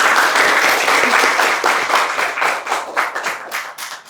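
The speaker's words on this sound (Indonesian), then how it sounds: "Boleh beri tepuk tangan?" A teaching session's audience gives a round of applause, with dense clapping that starts strong and gradually loosens into individual claps as it fades.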